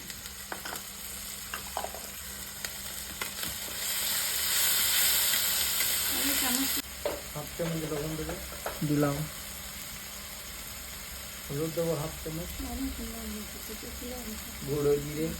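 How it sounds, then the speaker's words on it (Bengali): Onion sizzling in a pan with salt and ginger-garlic paste, a steady close frying hiss that swells loud midway, then eases as a person talks over it in short bursts. "একটু লবণ দেবো পেঁয়াজটা তাড়াতাড়ি হেরিয়ে যাবে আদা রসুনের পেস্ট দিয়ে দেবো"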